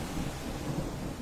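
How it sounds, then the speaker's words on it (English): Steady rain with a low rumble of thunder in a quiet rural setting, a continuous broadband wash at even loudness with a deep roll underneath, no voices present. "It's raining"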